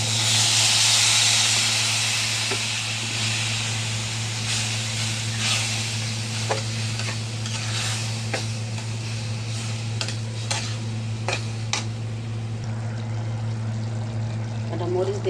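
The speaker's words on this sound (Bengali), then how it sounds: "এবার একটু পানি দিয়ে দিই।" Water splashes into a hot pan of dried lotia fish (loitta shutki) with salt, turmeric and chilli, raising a steady close sizzle and hiss with stirring scrapes over a constant low hum.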